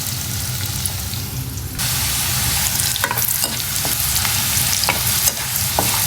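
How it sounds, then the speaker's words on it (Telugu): Onions frying for a prawn masala curry sizzle loudly in a pan on a gas stove, with a steady hiss broken by several sharp scrapes and clinks as a spoon stirs them. "సో మన ఆనియన్స్ అనేవి ఫ్రై అయిపోయినాయి."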